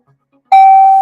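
A single doorbell chime rings out as a sound effect, a sharp, loud electronic tone that strikes suddenly out of near silence and holds steady, with no voice over it.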